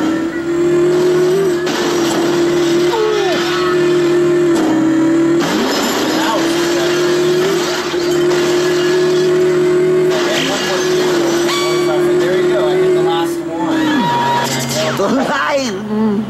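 A car from The Simpsons Road Rage drives on with a steady, loud engine drone and revs that rise and dip, while character voices and music carry on over it.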